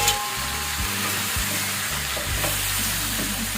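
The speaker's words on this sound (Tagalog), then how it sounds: "Hinintay ko lang na prito-prito dito yan." Three chicken thighs frying in a pan for Filipino adobo, a steady close sizzle and crackle of hot oil running throughout with no talking.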